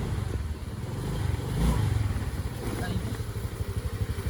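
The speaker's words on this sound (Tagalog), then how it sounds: "Titingnan natin kung makakaya ng motor." A small scooter engine chugs and revs unevenly up close on a muddy road, with a voice talking over the throbbing exhaust.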